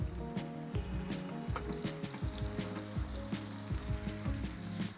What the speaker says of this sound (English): immediately you can hear the change in that sizzle